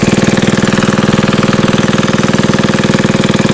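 A 74-year-old Briggs and Stratton small engine running on a dyno, loud and close with a fast, even chugging pulse that keeps up the whole time.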